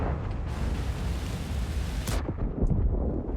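A tank gun fires in a tank video game, a heavy booming blast followed by a rumbling decay, loud and close over continuous engine and battle noise.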